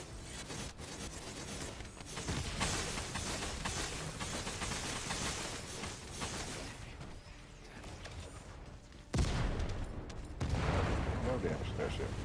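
Gunfire aimed at an aircraft in the video game The First Descendant: a dense, continuous barrage of shots and blasts with a sharp heavy impact near the end, all under voices talking.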